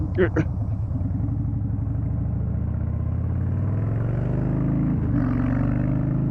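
A cammed pickup truck's engine idles with a deep, loping rumble, steady and close, with a slight rise in pitch near the end.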